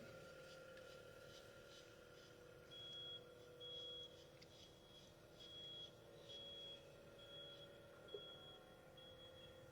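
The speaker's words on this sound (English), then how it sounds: "That's a tow truck backing up." A tow truck backing up gives regularly spaced high reversing beeps, faint and distant, over a steady low background hum with a brief sharp knock near the end.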